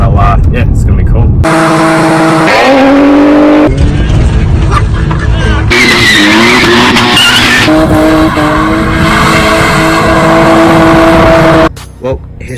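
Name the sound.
Nissan Cefiro with RB25DET engine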